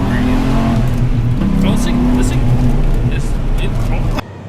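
Dodge Ram SRT10 pickup with a manual V10, an 2004 or 2005 bench-seat truck, droning loudly from inside the cab with shifting engine tones and some rising pitch, cutting off abruptly near the end.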